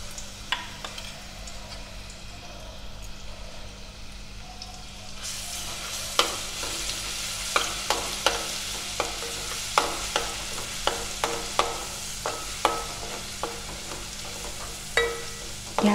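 Ginger-garlic paste dropped into hot oil in a pan on a low flame, sizzling and frying steadily. A quieter stretch gives way to louder hissing, broken by a string of sharp crackles and pops, with no voices over the cooking.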